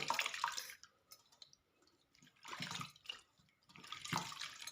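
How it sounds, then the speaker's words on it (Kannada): Water splashing in three separate bursts with quiet pauses between them, close by, like water poured or sloshed while washing something. "ಅದಕ್ಕೆಲ್ಲ ನೀರು ಚೆಲ್ತದೆ"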